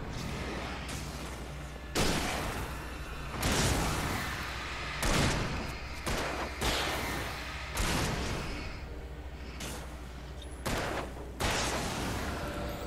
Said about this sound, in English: She just shot at me.